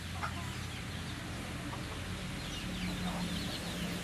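Chickens clucking at a farmyard in cool, chilly Abra during a morning routine, several soft scattered clucks over a steady low background hum.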